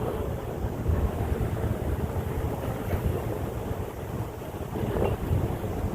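Steady roar of three-to-four-foot waves and surf blends with heavy wind buffeting the microphone in light rain, continuous and loud throughout with no voices.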